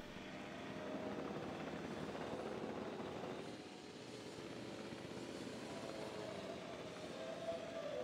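Helicopter flying away in the video game Jurassic World Evolution 2: a faint, steady rotor drone that dips slightly midway and continues at a low, even level, with no voices.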